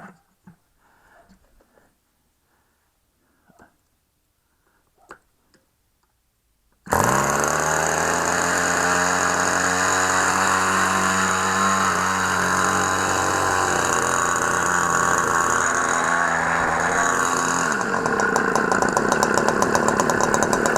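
After several seconds of near silence with a few faint knocks, a Hype 69 Coolfire engine awaiting restoration bursts into life and keeps running loud and steady, close by, with a rough buzzing note.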